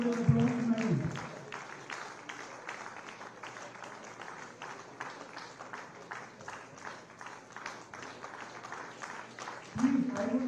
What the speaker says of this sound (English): I would like to please the second runners of a huge round of applause for all